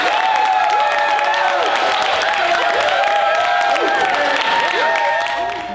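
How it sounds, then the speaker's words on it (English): Audience applause at a high school theatre troupe's thespian honor society induction ceremony, a dense steady wash of clapping with faint cheering that holds throughout and tapers slightly at the end. "Give our National Honor Thespians a round of applause."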